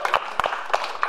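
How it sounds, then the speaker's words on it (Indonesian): Audience applause for a child named Gempita at a comedy roast show, a short burst of scattered hand claps from a small crowd, fairly close and uneven, ending quickly. "Boleh minta tepuk tangannya buat Gempita."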